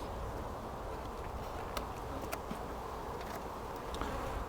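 Soft, continuous honeybee buzzing drones throughout from inside a poly hive during an inspection, with a few faint clicks and ticks scattered over the hum, fairly quiet and without any voices.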